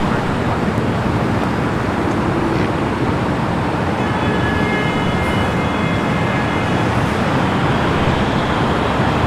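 Japan Airlines Airbus A350-1000 from Tokyo Haneda at Los Angeles LAX, a continuous loud jet roar and rumble over several seconds, heard from a distance with no talk.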